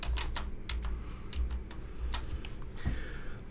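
Quick bursts of keystrokes on a computer keyboard, crisp irregular clicks clustered in short runs with brief pauses, close and clear, no speech.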